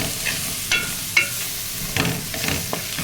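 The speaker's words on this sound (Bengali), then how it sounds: "চিংড়ি মাছটা আমার ভাজা হয়ে গেছে" Prawns sizzle steadily in a hot pan, with a few scraping stirs and soft clinks breaking through the crackle.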